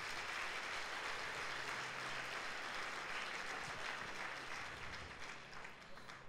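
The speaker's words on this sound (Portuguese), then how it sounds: "Dá um aplauso ao Senhor Jesus" A church congregation at a Sunday service claps together in sustained, fairly even applause, heard from a distance at moderate level and fading slightly toward the end.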